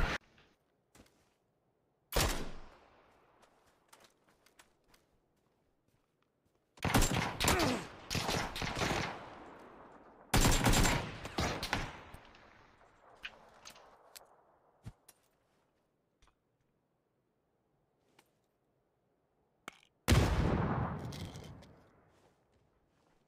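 Gunfire in the video game Doom: scattered bursts of rapid shots with sharp decaying echoes, separated by quiet gaps, loud and close.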